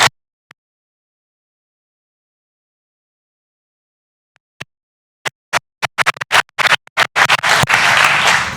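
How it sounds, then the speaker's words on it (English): Silence broken by a few isolated claps that build into a burst of audience applause at a talk event, growing dense and loud in the final seconds. "Give him a big round of applause."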